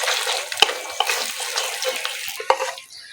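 Two beaten eggs with salt sizzle softly in a little oil over low heat as they are stirred into bhujia. A soft, hissing fry continues under occasional sharp clinks of a utensil against the pan, then quiets at the end.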